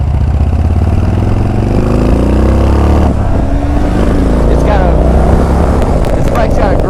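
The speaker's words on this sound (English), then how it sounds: "This bike's got a great sound to it." A Harley-Davidson Ultra Classic motorcycle engine runs close by with a loud, thick, continuous rumble whose pitch rises and falls a little as it revs, never dropping away.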